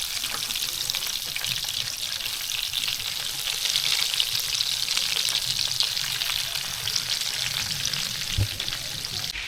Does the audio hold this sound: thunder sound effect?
no